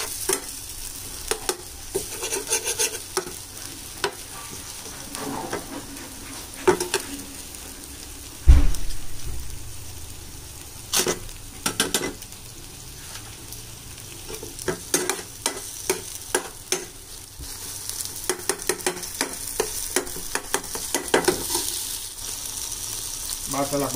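Onions stirred and frying in a pan for pav bhaji, a steady sizzle under repeated scraping stirs and one sharp clank midway, with no voice over it.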